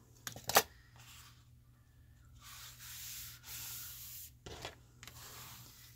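Folded paper for a ring binder journal is burnished with a tool to set the crease, giving soft, close rubbing and scraping strokes in several passes, with a sharper scrape near the start.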